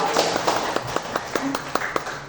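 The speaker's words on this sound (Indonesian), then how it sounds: "Mari kita berikan aplaus buat beliau." A school audience in Malang claps for a speaker: a short burst of uneven handclaps, moderately close, with some voices underneath.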